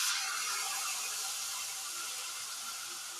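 Blended mustard paste, with a pinch of whole cumin already in, hits hot oil in a home kitchen pan, giving a steady loud sizzle and hiss that fades slightly over a few seconds, with no talking.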